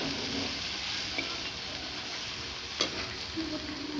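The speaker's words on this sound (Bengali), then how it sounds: "এবার ভালো করে নেড়ে চেড়ে নেব।" Quiet, continuous sizzling and scraping as chili powder, cumin powder, ginger and garlic are stirred in a hot pan, with one soft knock of the spoon partway through.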